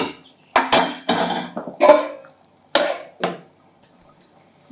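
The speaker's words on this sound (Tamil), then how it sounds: "இப்போ கொஞ்ச நேரம் மூடி வைப்போம்" Metal cookware clanks and clatters as a lid goes onto a pot of sardine fish curry, a series of sharp bright knocks and rattles with brief pauses between them, close by and with no talking.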